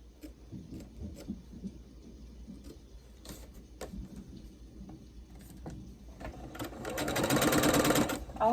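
A sewing machine stitches a press-on panel quilt in short bursts with pauses, then runs in one longer, louder continuous whir toward the end, close and clear.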